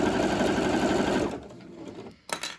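A sewing machine stitches wide trousers in a fast, steady mechanical whir that stops after a little over a second, followed by a quieter pause and a few short handling noises, with no talking.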